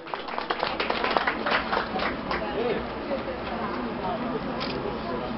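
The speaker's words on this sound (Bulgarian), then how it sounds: "Вашите аплодисменти за Павлина." An audience at an award evening applauds Pavlina, a burst of dense clapping that is loudest at first and then thins into a steady patter.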